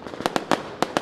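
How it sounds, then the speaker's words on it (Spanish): Fireworks at the Entierro de la Sardina celebration in San Andrés y Sauces pop and crackle in a rapid irregular series of sharp bursts, moderately loud and somewhat distant. "Continúan los fuegos artificiales."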